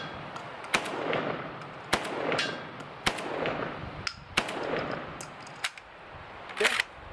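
JTS M12 AK 12 gauge shotgun firing Winchester target loads at a range, a series of loud, sharp blasts about a second apart, each with a short echoing tail.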